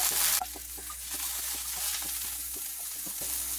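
Eight cloves of garlic drop into hot coconut oil, setting off a steady, fairly quiet sizzle with small regular pops and crackles after a brief louder burst at the start.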